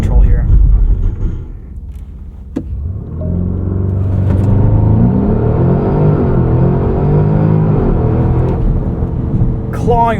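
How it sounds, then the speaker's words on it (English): 2024 Porsche Cayenne Turbo E-Hybrid Coupe braking to a stop, then launching hard under launch control: a loud, deep engine rumble that swells into a steady, rising roar of sustained acceleration, heard from inside the cabin. "Let's do a braking test into a quick launch control here."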